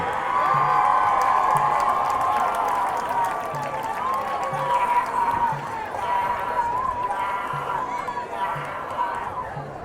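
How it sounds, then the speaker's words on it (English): Crowd noise fills a high school football stadium at a Sioux Falls Roosevelt versus Rapid City Stevens game, a steady roar of applause, cheering and chatter that holds at a fairly loud level throughout. "how about a round of applause for Area 51 and the Roosevelt High School student body"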